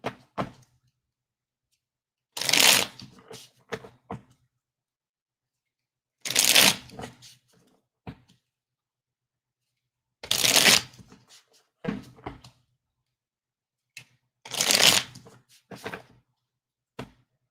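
Tarot cards are shuffled in four loud, evenly spaced riffling bursts, each followed by soft taps and card handling, with near silence between them.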